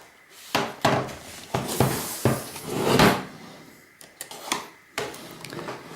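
Plastic LCD monitor casing being pried apart at its clips, with a series of sharp cracks, snaps and knocks at irregular intervals, fairly close and loud.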